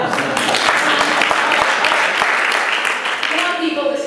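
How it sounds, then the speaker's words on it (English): A crowd claps steadily for a few seconds, a dense patter of applause that thins slightly toward the end. "how about you clap?"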